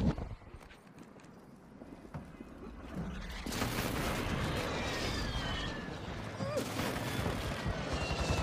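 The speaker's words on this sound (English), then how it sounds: "Enemy precision airstrike." Explosions and rattling gunfire from an enemy precision airstrike in Call of Duty Mobile rise sharply partway through and then hold as a loud, dense barrage.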